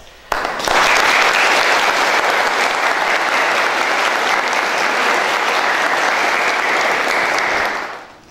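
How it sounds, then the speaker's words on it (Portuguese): A church community gathered at a cathedral renovation update bursts into loud, sustained applause, dense clapping that begins abruptly, holds evenly for about seven seconds, then fades out. "Eu vim aqui para que a comunidade possa acolher os dois com uma salva de palmas."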